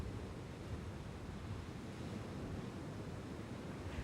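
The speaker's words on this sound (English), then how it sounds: "The result is a breaking wave or surf as it crashes to the shore." Ocean surf breaking on a shore makes a steady, dense broadband wash of rumbling waves mixed with wind buffeting the microphone, continuous and fairly loud with no voices.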